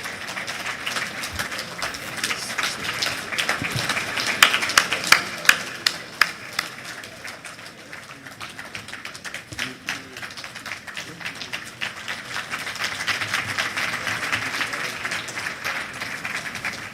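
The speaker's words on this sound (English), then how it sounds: "Please, let's applaud this moment." A conference audience at an annual economics society session applauds with sustained, dense clapping that stays loud, dips briefly midway, then builds again, with a few sharper individual claps standing out.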